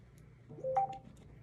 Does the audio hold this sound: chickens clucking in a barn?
no